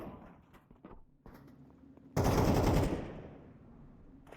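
Gunfire bursts out in a video game, a loud rapid volley near the middle after scattered quieter clicks and shots, then fading into a ringing tail.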